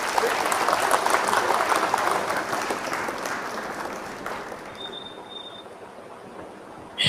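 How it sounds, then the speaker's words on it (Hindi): Audience applause at a kavi sammelan poetry gathering in Katni, Madhya Pradesh, a broad crowd clapping that starts strong, thins gradually and fades toward the end, with a short tone and a sudden noise at the close. "जोरदार तालियों के साथ आमंत्रित कीजिए कृष्णा मित्र"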